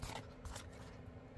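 Scissors trimming stray paper edges on a junk journal page, a few soft snipping and scraping cuts close by, fairly quiet, with no talk.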